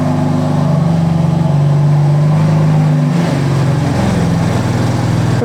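A car engine warming up runs loudly and steadily close by on a four-post lift, its low droning hum holding pitch, then dipping slightly partway through.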